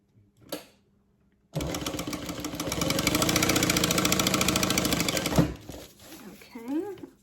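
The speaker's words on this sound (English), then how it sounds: "we're just going to sew across here" A sewing machine stitches across a seam on a heavily modified Trailblazer backpack, running fast and loud for about four seconds after a brief knock, with someone speaking just before and after.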